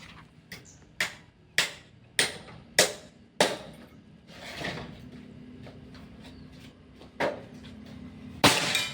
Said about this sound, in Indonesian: Tembakan keempat.